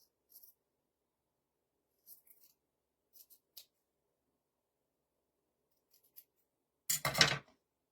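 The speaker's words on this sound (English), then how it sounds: "Yeah, I'm just cutting some of these out." Scissors snipping craft shapes at a Stars and Stripes craft event: sparse, quiet, close cuts in small clusters separated by silence, ending in a louder burst of rustling paper and handling.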